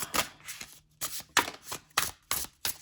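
A deck of playing cards being shuffled, a quick series of crisp riffling bursts in an uneven rhythm, close and quiet with short gaps between each pass.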